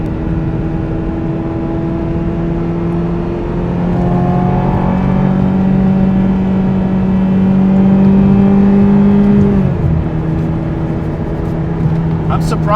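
1999 Ferrari 355 Berlinetta F1 on stock exhaust cruising from inside the cabin, a fairly quiet steady engine hum with tones that rise gradually and then drop, people talking over it.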